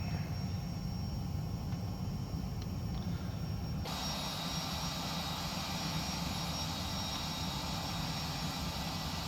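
Steady jet engine roar of a Vision Jet in the X-Plane 11 flight simulator, a continuous broadband rumble climbing out; the tone brightens partway through and holds at an even level with no talk.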